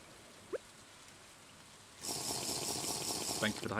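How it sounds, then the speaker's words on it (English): Steady rain hiss in the farming video game Stardew Valley starts abruptly partway through after a near-quiet stretch with a brief blip, then holds as an even, moderately loud wash of rainfall. "I'm gonna have to walk home slowly in the rain."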